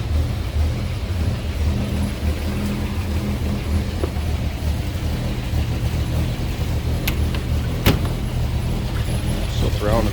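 A 1927 Buick 27-54 with an inline six-cylinder engine running steadily, a continuous low rumble close by with a few faint clicks over it.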